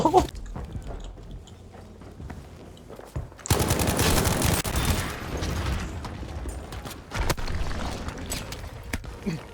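Gunfire from Battlefield V, a World War II video game, in sharp scattered shots and then a dense, loud burst of rapid fire, followed by further shots and mechanical clatter.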